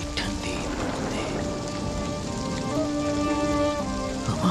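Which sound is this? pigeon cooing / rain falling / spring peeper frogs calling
rain falling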